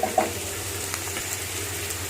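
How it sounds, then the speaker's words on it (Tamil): Chopped large onions sautéing in a pan for egg kurma, a steady soft sizzle running throughout with a couple of brief stirring knocks near the start. "இப்போ நம்ம இதை நல்லா வதக்கிக்கலாம்"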